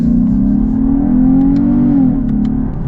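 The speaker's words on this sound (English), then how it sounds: "An acceleration with the V6." A 2024 Chevy Camaro V6 accelerates hard from inside the car, its engine drone loud and steady with a rising pitch that dips briefly near the end.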